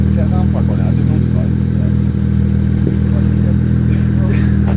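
A straight-piped BMW 135i coupe with an aftermarket catback exhaust rumbles loudly and continuously at close range, a deep, steady drone with occasional clattery pops and revs, voices talking faintly beneath it.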